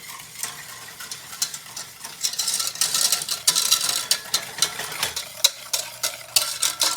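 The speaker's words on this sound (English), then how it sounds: "I have 1/2 cup of sugar. And I'm going to go ahead and whisk that around." Half a cup of sugar is whisked around in a pot over no heat, giving rapid rhythmic scratchy clicks of the whisk against the pot that grow busier and louder, with no talking.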